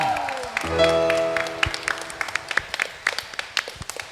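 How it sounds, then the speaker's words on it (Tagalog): Congregation clapping at a Filipino healing service, starting with sustained organ or keyboard chords and then settling into loose, uneven claps that grow more distinct toward the end, moderately loud. "Sige po, yung malakas na palakpak, bigay natin sa Panginoon."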